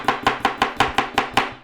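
A kitchen knife chops a potato on a cutting board in eight quick, evenly spaced crisp knocks, close and clear with no talk.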